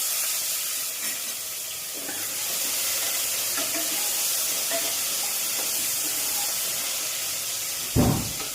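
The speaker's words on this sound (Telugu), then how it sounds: "ఈ మసాలాలన్నీ కూడా బాగా వేగిన తర్వాత మనం తరిగి పెట్టుకున్నటువంటి 3 ఎర్రగడ్డల్ని ఇందులో వేసేద్దాం" Chopped onions drop into hot spices for a chicken soup masala, giving a soft continuous sizzle and hiss with faint stirring, ending in a brief louder clunk near the end; no talking.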